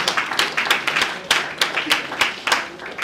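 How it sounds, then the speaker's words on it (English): Clapping from a small audience at an asthma conference, a few hands beating in uneven sharp claps, sparse rather than a full ovation, heard briefly. "Can we give him a round of applause?"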